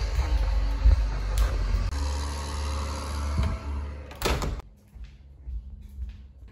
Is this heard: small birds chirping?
no